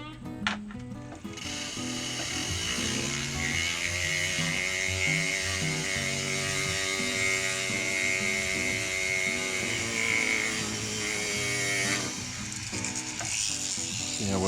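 A Foredom rotary carving tool whines steadily and loudly, shaping a wooden bluegill bream carving's fins, its motor tone holding even for most of the run before briefly dropping and rising again near the end.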